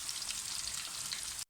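Food fries in a pan, a faint steady crackling sizzle that holds evenly for about a second and a half before cutting off abruptly.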